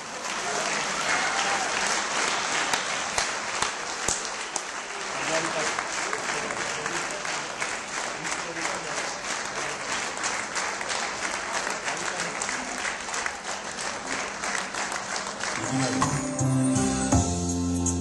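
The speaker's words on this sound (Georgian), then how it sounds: "გთხოვთ კიდევ ერთხელ ძალიან მაგარი ტაში" An audience at a charity foundation event gives long, loud, sustained applause that runs continuously, then gives way to music starting near the end.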